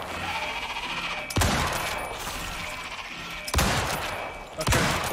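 Gunfire aimed at a mammoth in the video game Icarus, three loud sharp shots spaced over a few seconds with reverberating tails over a faint background hum.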